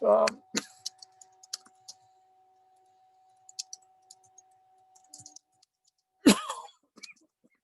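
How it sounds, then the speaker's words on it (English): Scattered keystrokes on a computer keyboard sound as short, sparse clicks in a quiet room, with a brief cough partway through. "I'm just going to type in here just to see if"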